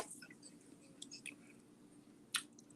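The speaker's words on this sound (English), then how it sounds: "I'm thinking while I'm chewing." A person chewing food close up, soft quiet wet smacks and clicks scattered irregularly, with one sharper click near the end and no talk.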